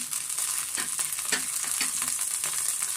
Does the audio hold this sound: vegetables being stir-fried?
yes